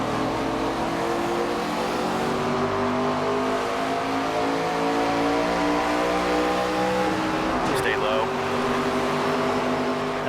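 Race car engines in the NASCAR 25 video game roar and rev together during a rolling start, a loud, sustained layered drone of rising and falling pitches.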